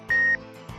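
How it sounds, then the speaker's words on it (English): A dive computer's ascent rate alarm gives a single steady electronic beep lasting about a quarter second, clear and fairly loud over a low background hum. "Dive computers also have alarms, audio and visual, that warn you if you exceed the maximum ascent rate."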